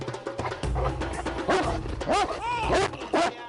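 A Great Dane, a large guarding breed descended from Mastiff and Greyhound stock, gives a handful of deep, close barks and short yips. They come in uneven bursts with a brief whining edge and no other sound behind them.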